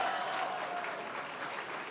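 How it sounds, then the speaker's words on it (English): Audience applause at a fall benefit gala for a performing arts group, a dense, even wash of clapping from a sizable crowd, heard at moderate distance and holding steady throughout. "Give that man a big round of applause."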